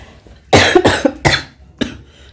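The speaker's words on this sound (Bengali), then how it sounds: "শুরু হচ্ছে নিজেরও কাশি" Four harsh coughs in quick succession from someone who is unwell, loud and close, each a sharp broadband burst with short gaps between, at home amid household packing.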